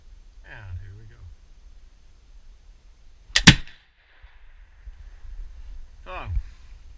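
A Mortimer flintlock rifle fires once at mid-clip, a sharp loud crack with a brief ringing tail, set between short stretches of talk before and after outdoors.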